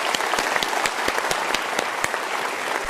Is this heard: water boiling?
no